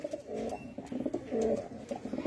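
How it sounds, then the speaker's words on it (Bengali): A Kalshira pigeon kept for sale coos in repeated low throaty rolls, close and fairly clear, with a brief pause between phrases. "কোনো পায়রা রোগ নেই, হেলদি অ্যান্ড ফিট পায়রা"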